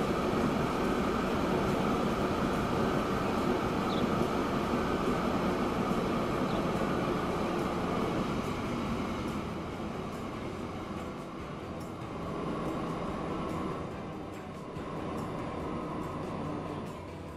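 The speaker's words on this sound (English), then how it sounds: "It's screaming downhill at 120 kilometers an hour" Electric train in Transport Fever 2 running downhill at speed, a steady rumbling roar of wheels and motor that eases slightly partway through, continuous and fairly loud.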